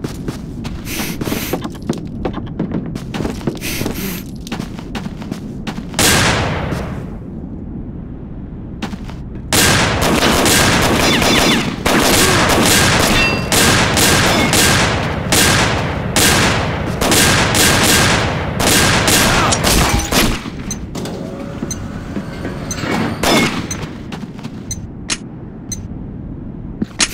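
Heavy gunfire in a round of a combat video game, with dense volleys of shots and sustained automatic bursts interrupted by short quieter gaps, loud and close throughout.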